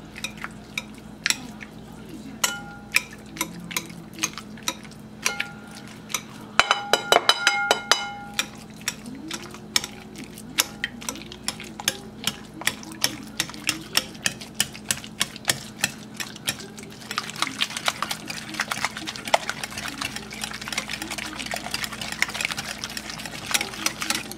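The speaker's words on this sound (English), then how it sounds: "with a whisk I'm just going to start mixing it together" A whisk stirs lasagna ingredients in a bowl with rapid, steady clicking strokes against the sides, close and crisp, with a few brief louder clatters partway through and no talking over it.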